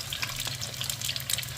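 Egg slices frying in a little oil in a pan, a soft, steady sizzle with faint crackles and a low background hum, close and fairly quiet.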